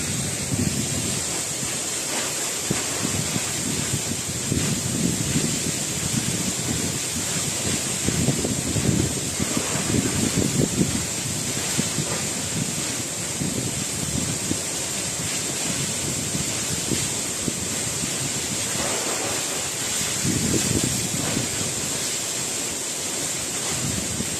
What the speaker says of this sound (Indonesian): Nah ini para sahabat, air terjunnya dari atas ini, dari ke bawah ini.